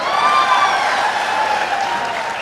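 Audience at a Tamil speech applauding, a dense burst of clapping that is loud at first and eases slightly as it continues, with no talk over it.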